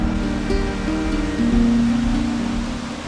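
A waterfall in a traditional village in Laos roars as a steady, broad rush of falling water, loud and continuous, with no voices over it.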